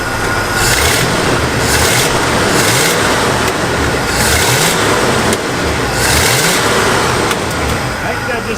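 An abandoned Pontiac's engine, just fixed with new spark plugs, revs in repeated loud swells about every one to two seconds, running close and strong with no pauses.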